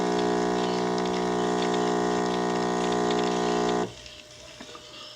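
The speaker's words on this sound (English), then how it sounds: "we're going to hit the espresso button. You'll notice this one pours a little different." Starbucks Verismo espresso machine pumping espresso into a cup: a loud, steady mechanical hum with a liquid gurgle runs for about four seconds, then stops abruptly, leaving faint drips and settling noise.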